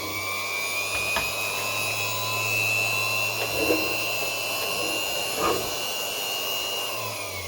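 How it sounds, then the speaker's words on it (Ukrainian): Small, simple 250 W bench grinder running on UPS power, a continuous high-pitched whine over a low steady hum, with a few faint knocks and clicks along the way. "маленьке точило, воно має 250 Вт простесеньке"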